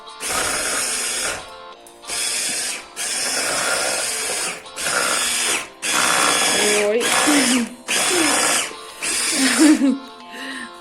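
Electric hand mixer whirring through chocolate cake batter in a home kitchen, running in about seven loud, close bursts that start and stop, with short pauses between them.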